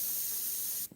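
An Iwata airbrush sprays Createx paint onto Claybord in a continuous close, steady hiss that cuts off abruptly at the end.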